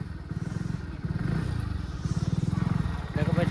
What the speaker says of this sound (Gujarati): ભાઈ ઠરી જવાય એટલે બાઈક બંધ કરું